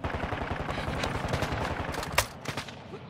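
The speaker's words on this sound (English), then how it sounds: "You don't see me shooting at them?" Rapid automatic gunfire in the video game Call of Duty Modern Warfare 2 DMZ: a steady, rhythmic stream of shots, with one louder crack near the end.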